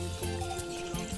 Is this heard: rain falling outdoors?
no